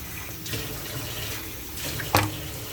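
Tap water runs steadily into a pot for fish broth, a close, continuous splashing rush with a sharper knock or clink near the end.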